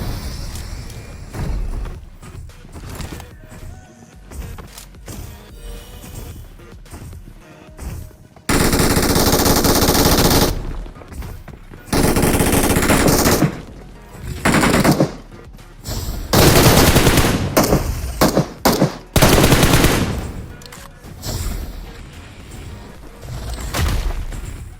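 Bursts of automatic gunfire and single shots crack through a BGMI battle royale match in fusion mode, loud sustained volleys alternating with quieter gaps, with a few booms mixed in.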